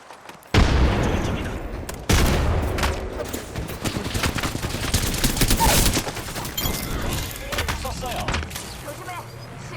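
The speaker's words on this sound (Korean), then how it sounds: "세열 수류탄 공격" A frag grenade blast followed by dense, sustained gunfire from the video game Apex Legends, with a sharp loud explosion near the start and another heavy burst around two seconds, then continuous rattling shots throughout.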